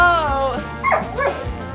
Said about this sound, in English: Girls, stop barking.